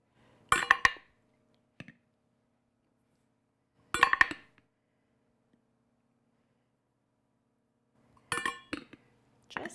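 Bread flour scooped into a bowl for ciabatta dough in a quiet kitchen, three short clinking scrapes of a scoop against the bowl with silence between them.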